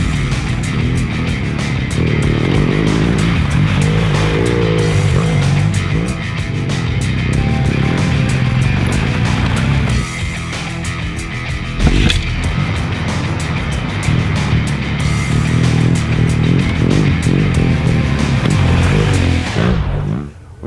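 A 2017 BMW R 1200 GS Rallye motorcycle being ridden, its engine a steady loud drone that rises and falls with throttle for about twenty seconds, with wind rush throughout and no talk.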